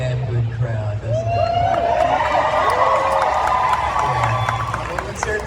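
Large convention panel crowd cheering and whooping loudly in a packed hall, a sustained roar with shouts rising over it, near and continuous throughout.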